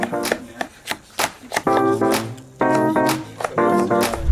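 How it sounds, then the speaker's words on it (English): A knife chops vegetables for a tuna and veggie salad on a cutting board, with a run of quick, sharp taps alongside brief bursts of tonal sound, the strikes close and fairly loud across the clip. "what I wanna do is chop this up as fine as I can"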